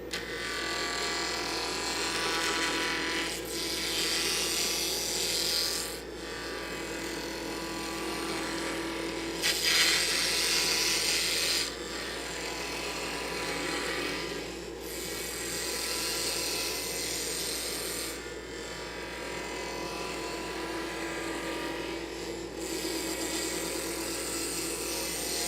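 Square wood blank spun and cut on a wood lathe with a dust blower running, a steady loud whirring grind that rises and falls in several passes over about 25 seconds.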